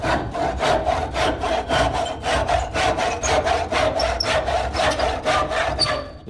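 Hand crosscut saw cutting through wood, about twenty steady back-and-forth strokes in an even rhythm, close and fairly loud, with no talking over it.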